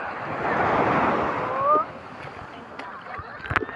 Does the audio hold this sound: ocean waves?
yes